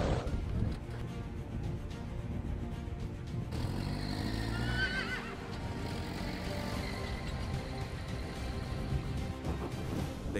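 Horses being loaded on a cold, windy day whinny loudly nearby, a long wavering neigh rising over rumbling wind and vehicle noise, with hooves and movement throughout.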